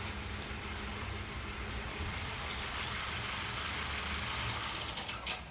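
A Hyundai car engine with camshaft timing fault codes P0011 and P0014 turns over and settles into a steady running rumble with mechanical clatter, fairly quiet and close.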